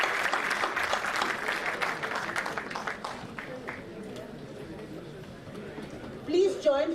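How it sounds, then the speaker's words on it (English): An audience claps together at the close of a formal event. The dense applause runs for a few seconds, then thins out and gives way to quieter room noise and a voice. "May I give them a round of applause, I think."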